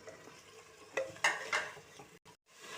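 Fried chicken tipped into a pan of biryani masala with yogurt and lemon juice gives a few soft clattering scrapes and a faint sizzle; no one speaks.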